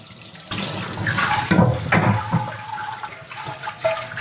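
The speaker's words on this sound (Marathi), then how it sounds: "आता हा माठ आपण नळाखाली ठेवू आणि पूर्ण माठ आहे ना आतून बाहेरून ओला करून घेऊ" Tap water runs and splashes loudly over a dry clay water pot held under a faucet, the gushing shifting in tone as the pot is turned and wetted inside and out.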